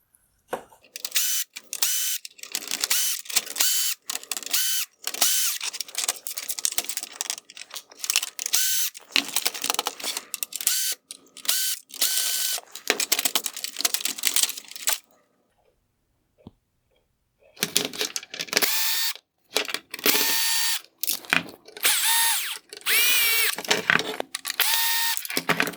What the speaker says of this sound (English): I will begin by removing the Phillips head screws holding the LED to the front lens.